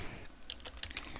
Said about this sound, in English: I'm just going to be typing in